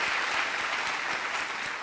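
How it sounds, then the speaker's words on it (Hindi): Steady applause from a crowd, dense and even clapping throughout, heard from a moderate distance. "तालियों के साथ अभिनंदन"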